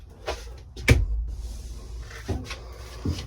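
Cabinet doors inside a small Class A motorhome are opened, giving a few sharp knocks and clacks followed by softer thuds and rattles, close and fairly loud.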